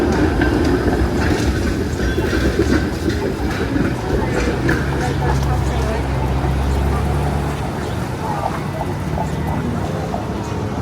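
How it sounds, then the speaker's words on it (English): A 505 Dundas streetcar rolls along a Toronto street, a steady loud rumble of wheels and motor filling the whole stretch with traffic noise around it. "505 Dundas streetcar. That one is short turning."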